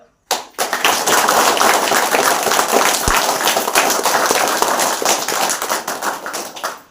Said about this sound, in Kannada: ನಮ್ಮ ರಾಜಣ್ಣ ಸರ್ಗೆ ಒಂದ್ಸಲಿ ಜೋರಾಗಿ ಚಪ್ಪಾಳೆ.